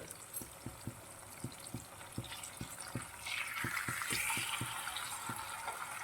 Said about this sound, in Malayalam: സ്റ്റൗവിൻ്റെ ഫ്ലെയിം ഒരു മീഡിയം ഫ്ലെയിമിൽ വെക്കാവേ നമുക്ക് ഒത്തിരി ഹാർഡായിട്ട് നമുക്ക് ഫ്രൈ ചെയ്തെടുക്കണ്ട